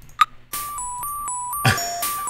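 In the video game Dark Seed, a doorbell chimes in a few short electronic tones, clear and close, with brief game sound effects between rings.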